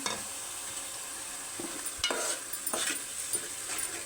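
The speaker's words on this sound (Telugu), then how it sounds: "టమాటా పేస్ట్ కూడా వేసేద్దాం." Tomato paste from three ripe tomatoes is stirred into softened onion paste in a hot pan, a steady close sizzle broken by repeated scraping strokes of a spoon, with no one talking.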